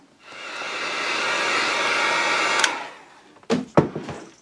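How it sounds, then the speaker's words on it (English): Heat gun drying fresh paint, a steady, loud blowing roar that holds for a few seconds and then cuts off, followed by a couple of close clicks and handling knocks. "we're going to dry this with the heat gun"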